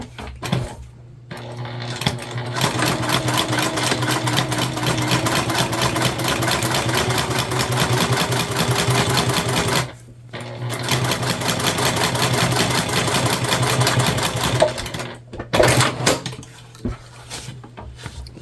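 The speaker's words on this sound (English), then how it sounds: "we're going to sew everything together at the seam allowance in the pattern" A domestic sewing machine runs in long continuous bursts, stitching a fabric seam for a sling bag, with dense rapid needle chatter, pausing briefly twice between runs.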